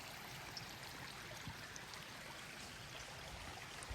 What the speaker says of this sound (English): Hope y'all enjoy seeing the creek and hearing the sounds.